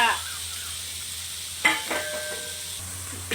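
Liver stir-fried in a hot pan for Thai holy basil liver, with a steady sizzle underneath and several sharp scrapes and clanks of a utensil against the pan, moderately close.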